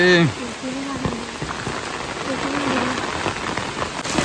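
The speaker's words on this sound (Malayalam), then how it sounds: "എന്താ മഴ" Steady rain patters on a surface, a dense even hiss, with a voice speaking briefly over it near the start.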